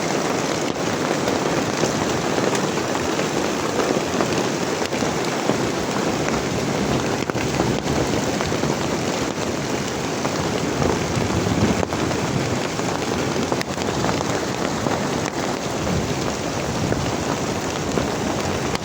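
Walnut-sized hail pours down in Qashqadaryo, Uzbekistan, in a dense, continuous clatter, a steady loud roar of pelting ice with no letup and no voices.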